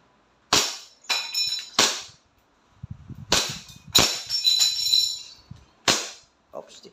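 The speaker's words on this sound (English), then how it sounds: "rapid firing tayo. Rapid test. Okay. Glock 19, Gen 5." An E&C Glock 19 Gen 5 airsoft pistol, a subcompact with a short barrel, fires in close bursts: sharp, loud cracks, some in quick succession, with metallic slide clacks and faint handling noise in between.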